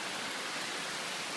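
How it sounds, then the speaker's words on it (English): Heavy wind drives sheets of rain against a house during a severe June thunderstorm in Taft, Tennessee, a dense, steady roar of downpour that holds unbroken and loud throughout. "oh wow, this is an intense thunderstorm here"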